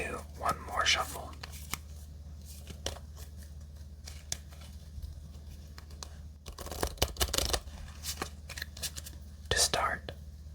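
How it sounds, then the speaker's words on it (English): A deck of Regicide fantasy playing cards is shuffled in a quiet close-miked setting, with crisp riffling bursts and soft papery flutters coming in separate spurts between pauses. "Let's do one more shuffle."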